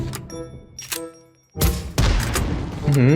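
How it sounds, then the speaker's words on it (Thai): A grenade launcher or RPG in PUBG Mobile fires at a wall, producing heavy booming blasts and thuds after a quieter stretch, with dense explosive noise toward the end. "ไม่ว่าจะเป็นปืนระเบิดหรือว่าปืน RPG นะครับ ให้เรายิงใส่กำแพงอย่างนี้เลย"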